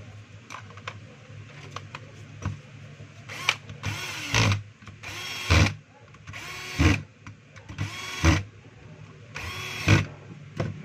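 A power screwdriver drives screws to close the casing of a Stanley heat gun, giving a series of short whirring bursts at a regular pace, close and clear over faint background hum.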